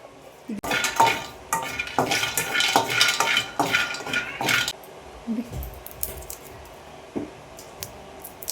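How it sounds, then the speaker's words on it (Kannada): Almonds dry-roasting in a pan for jackfruit seed laddu, stirred with a utensil, give a busy run of scraping and rattling clatter that quiets after about five seconds, leaving a few scattered, softer scrapes and taps. "ಅದಕ್ಕೇ ನೆಕ್ಸ್ಟು ಬಾದಾಮ್ ಹುರ್ಕೊಳ್ತಾ ಇದ್ದೀನಿ. ಅದು ಸ್ವಲ್ಪ ಚೆನ್ನಾಗಿ ಹುರ್ಕೊಳ್ಳಿ."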